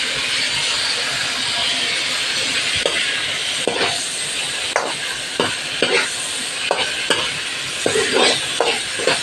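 Steady sizzling of white onion frying in hot oil, with occasional stirring scrapes and clicks growing more frequent toward the end.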